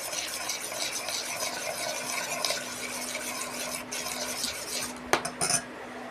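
A spoon stirs melted soap base with orange added in a container, making close, soft scraping and clinking, with a few sharper knocks near the end.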